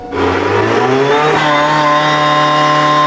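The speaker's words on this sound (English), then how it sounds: "Can you ignite the petrol engine and make it run so we get some sound from that vehicle?" The petrol engine of an Audi RSQ e-tron cranks and fires up, revs briefly, then settles into a loud, steady idle heard up close with no talking.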